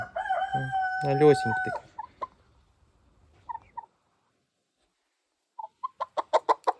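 Crested chickens cluck and squawk in short bursts with pauses between, a rooster-like call early on, and a brief spoken voice among them.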